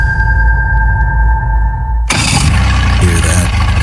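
A boat engine cranks and fires up abruptly partway through, a loud broadband roar bursting in after a steady tonal hum and low rumble.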